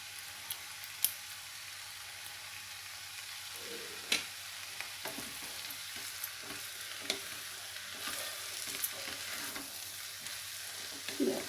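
Cucumber poha being stirred in a pan with grated coconut, coriander and curry leaves, a steady soft sizzle broken by scraping spoon strokes and a few sharp clinks against the metal.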